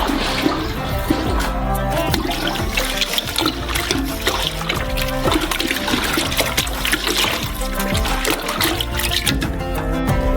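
Orange juice, sugar and flavoring are thoroughly mixed in a large batch, giving a loud, continuous churning, sloshing liquid sound with trickles and splashes throughout, no talking.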